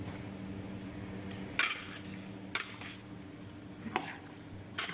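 A spoon mixes a Russian cocktail creamy fruit salad in a bowl, giving a few sharp, scattered clinks against the dish over a low, steady background.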